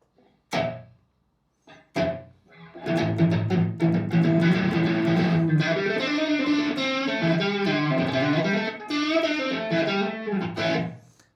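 Electric guitar phrases played with a quick slapback echo, each note followed by a short repeat, after a couple of muted thunks.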